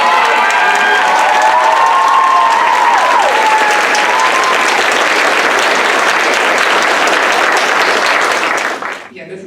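Sustained, loud applause from a large crowd with scattered cheers and whoops, continuing steadily before cutting off abruptly at the end.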